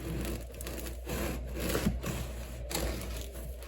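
Steady scraping and crunching of a knife sawing through the crisp crust of no-knead artisan bread, repeated back-and-forth strokes close up with no talking.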